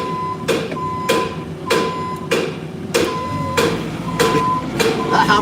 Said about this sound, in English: That hammering noise